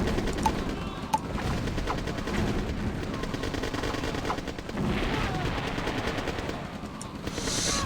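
Gunfire from an attack on a power plant in the Red Alert real-time strategy game, a steady crackle of small-arms shots with a few sharper single cracks, heard at moderate loudness over game ambience.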